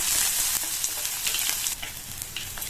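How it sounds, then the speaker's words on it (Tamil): Chopped onion and curry leaves sizzle in hot oil in a pan for a beetroot stir-fry, a steady close hiss broken by light stirring scrapes. "இந்த வெங்காயத்தை லைட்டா 1/2 நிமிஷம் போல வதக்கி விட்டுக்கணும்"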